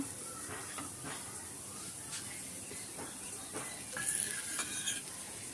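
Hilsa fish frying crisp in a hot pan gives a soft, steady sizzle and hiss, faint and close, with brief crackles and a slightly louder bubbling burst near the end.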